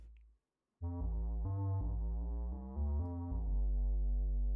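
A fat synthesizer pad sound designed in Reaktor begins after a short pause, playing a sustained chord sequence of rich harmonic tones that shift pitch every half second or so, loud and clean with no voices.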